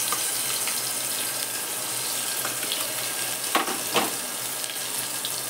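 Whole cloves and cinnamon sizzling in hot oil in a pan while cooking chicken rice, a steady close frying hiss with a couple of brief louder crackles.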